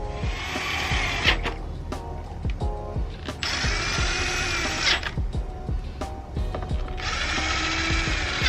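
Power screwdriver driving screws back into a Bose S1 Pro speaker: three whirring bursts of a few seconds each, separated by clicks, clatter and handling knocks, close and fairly loud.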